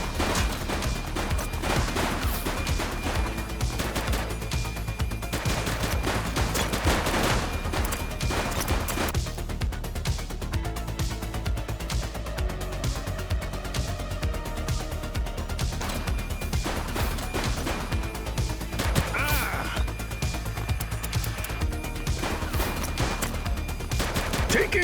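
Sustained gunfire in The Precinct video game as a suspect shoots at police: dense, continuous bursts and clattering shots, loud and busy throughout, with chaotic crashes mixed in.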